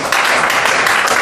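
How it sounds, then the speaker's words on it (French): An audience at a presentation claps and cheers together in a dense, loud, continuous wash of applause and acclaim, with mixed voices blending into the noise. "vous acclamez pour votre santé."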